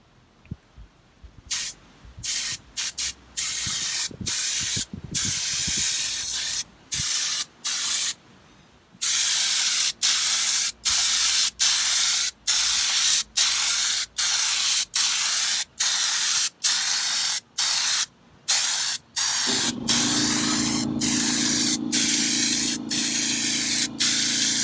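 Loud hissing bursts of a spray gun laying a second coat of Raptor liner on a diesel fuel tank, repeated short and long pulses with brief gaps, close up, ending with a low compressor hum.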